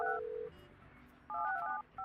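Telephone dialing tones in the building-management game Project Highrise as a phone line is installed: a short burst of clean beeping tones, a pause, then a longer run of rapid dual-tone beeps, quiet and crisp.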